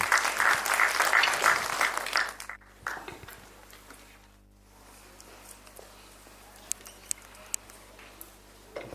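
A business pitch audience gives a round of applause for the next speaker, brisk and fairly close for about two seconds, then dying away to scattered claps and room noise.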